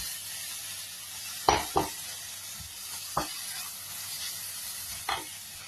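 Meat stirred in a pan with browned onion and garlic for menudo, a steady sizzle close up broken by several sharp scrapes and clacks of the spatula against the pan.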